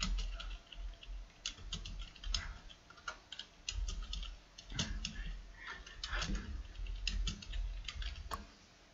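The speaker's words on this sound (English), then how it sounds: "I'm sorry if you can hear me typing" Quiet clicking of typing on a computer keyboard, irregular bursts of soft keystrokes with brief pauses, close but faint, with no talk.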